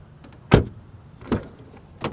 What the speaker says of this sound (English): Sound of the door open and close sound on the Hyundai Venue from the outside.